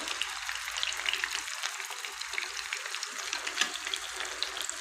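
Potato pizza bites fry on low heat in a pan, giving a steady close sizzle and crackle that runs evenly throughout with no talking.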